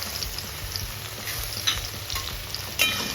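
Frying in a pan for a coconut chicken pulao with grated ginger, a steady close sizzle with scraping stir strokes and a couple of sharper clinks, no talk.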